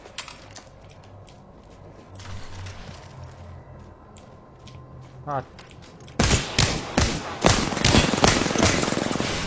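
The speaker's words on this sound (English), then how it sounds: "You're shooting at me" Rapid gunfire in a shooter video game, with dense bursts of shots erupting loud and close in the second half after a quieter stretch of mechanical clicks and low rumble.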